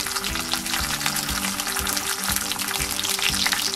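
Pork chashu sears in a hot frying pan with a steady, loud, close sizzle that holds for the whole stretch, with a faint low tonal hum running underneath.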